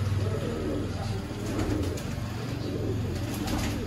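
Pigeon cooing from a kamagar pigeon pair kept in a loft, low soft coos repeating steadily over a constant background hum, fairly close and moderately loud.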